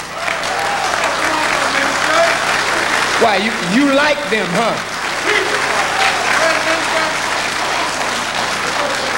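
An audience bursts into loud applause during a speech, dense clapping from a crowd throughout, with someone speaking over it.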